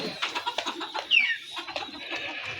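A backyard chicken, a broiler that now behaves like a local country hen, makes short clucks and calls near at hand. Light clattering and faint background sounds surround the calls, which come in an uneven run.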